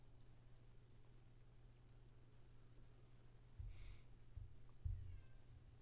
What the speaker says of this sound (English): Also, I'm sorry if you hear meowing.